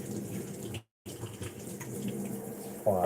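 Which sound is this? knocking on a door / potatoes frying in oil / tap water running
tap water running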